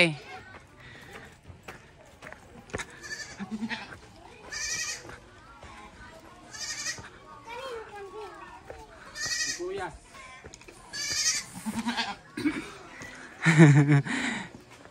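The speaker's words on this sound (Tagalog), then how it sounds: "Ito na yung mga kambing." Goats bleat repeatedly, several separate calls of varying pitch over a steady outdoor background, with people talking nearby between the calls.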